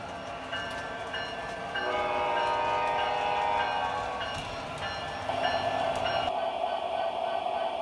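An MTH DCS model train sound system plays locomotive sounds with a continuous mechanical rumble and sustained horn-like tones, moderately loud and steady, with a couple of brief shifts in level.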